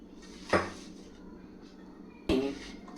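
Fenugreek pickle mixture is moved into a jar with two sharp clinks of utensil against ceramic or glass, separated by quiet scraping, up close.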